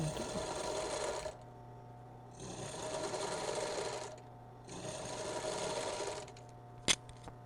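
Sewing machine zigzag-stitching around a curved bra cup, running in three steady bursts separated by short pauses, close and clear, with a small sharp click near the end.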